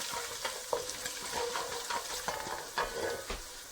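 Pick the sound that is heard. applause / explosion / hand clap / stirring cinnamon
stirring cinnamon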